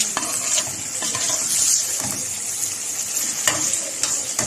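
Onions frying in a pot as okra and meat stew begins, stirred with a utensil: steady close sizzle with scraping and clinks of the spoon against the pot, no talk.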